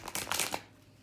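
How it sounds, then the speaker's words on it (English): A quick riffle of playing cards being shuffled, a few crisp bursts of flapping over about half a second, then quiet. "in the next sound of these cards shuffling,"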